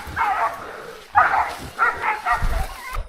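Hunting dogs barking and yipping as they charge through bushes during a wild pig hunt, with several loud, irregular bursts of barks spread across the moment and some rustling underneath.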